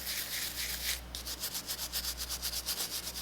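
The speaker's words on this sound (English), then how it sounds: "you're going to scrub all the extra dust off" A dust brush wet with alcohol scrubs nail dust from fingernails, giving close, soft rhythmic bristle rubbing in quick back-and-forth strokes after a brief initial swipe.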